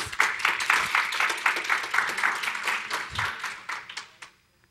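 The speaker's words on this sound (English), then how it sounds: "a round of applause to our 2 volunteers" Audience applause for two volunteers at a live puppet show, a steady wash of many hands clapping that swells and fades before stopping, close and fairly loud.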